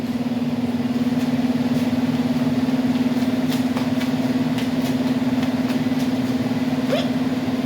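A 240SX's newly installed engine idles steadily with a constant low hum throughout, close by, with faint background noise and no talking.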